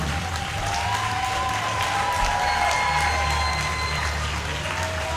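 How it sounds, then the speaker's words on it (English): Steady applause from a crowd fills the space, a dense continuous patter with scattered cheers and whistles rising over it. "give these guys a round of applause"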